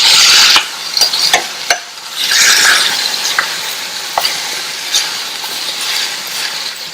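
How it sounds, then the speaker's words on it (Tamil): Radish pieces fry in a masala in a pan, giving a loud, steady sizzle broken by sharp scraping clicks as the spoon stirs and turns them. "இந்த மசாலாவோட சேர்ந்து முள்ளங்கி 2-3 நிமிஷம் ஃப்ரை ஆயிட்டு இருக்கட்டும்"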